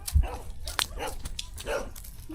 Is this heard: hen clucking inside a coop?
no